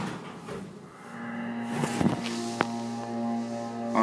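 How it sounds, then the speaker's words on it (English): A hydraulic elevator motor hums steadily in a hospital elevator car, a low, constant drone with faint clunks and thumps from the car around it. "Kind of a loud motor to me."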